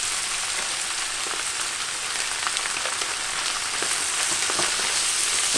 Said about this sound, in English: continue stir frying for another 30 seconds to a minute until the spinach is wilted